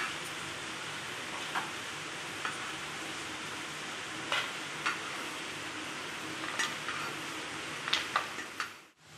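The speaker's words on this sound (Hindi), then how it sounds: "देखो काजू और आलमंड बादाम आमर भल भाव भाजी।" Cashews and almonds fry in a pan with a steady close sizzle, broken by scattered light ticks and scrapes of stirring.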